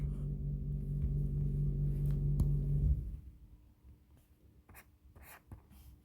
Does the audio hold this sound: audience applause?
no